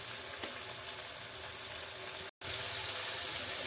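Tempering for sarson ka saag (mustard greens) sizzles in a pan with a dense, steady crackle, cut by a brief silent gap partway through.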